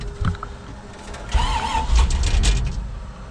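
A J20 truck running low on fuel, fitted with Holley Sniper EFI, cranks briefly and then catches, its engine rumbling up loud and rough at close range.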